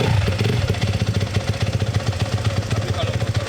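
A new motorcycle fired by its electric starter settles into a fast, even idle, a close rhythmic engine putter with light mechanical clatter, while people chat nearby.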